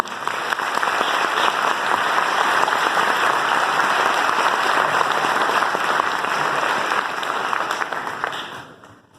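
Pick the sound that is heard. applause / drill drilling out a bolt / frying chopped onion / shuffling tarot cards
applause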